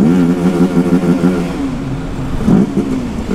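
A BMW 310GS motorcycle engine revs with a layered harmonic drone while riding down a mountain road, climbing and surging steadily near the recorder, with a brief louder burst of revving near the end.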